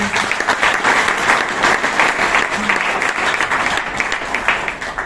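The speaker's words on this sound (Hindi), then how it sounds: "एक बार जबरदस्त तालियां" A business seminar crowd breaks into loud, energetic applause for a guest of honour, a dense, continuous roar of clapping that stays full for several seconds before easing slightly at the end.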